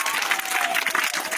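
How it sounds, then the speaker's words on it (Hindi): A class breaks into a brief burst of applause for a quiz winner, steady dense clapping from many hands that fills the room. "जोरदार ताली बजाइए उनके लिए।"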